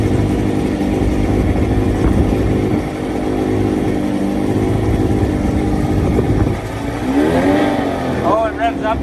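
A small boat's outboard engine, fitted with new plugs and a bigger propeller, runs loud and close after starting, its pitch rising and falling as it revs. A voice speaks briefly near the end.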